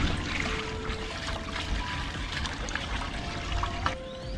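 Gray water drains from a camper at a campground, trickling and pouring in a steady stream, a continuous wet rushing sound that lasts throughout with no voices.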